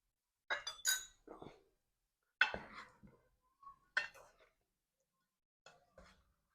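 Fresh fruit chaat with apple pieces being mixed in a bowl, heard as several clinking, scraping strokes of a utensil against the dish in short separate bursts with quiet gaps between them.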